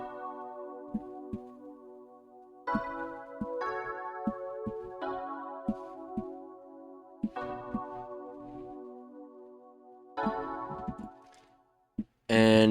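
A beat remake plays on the Xenology EP Legend W synth, layered sustained chords that shift every few seconds over sparse, crisp percussion ticks, ending with a brief loud burst.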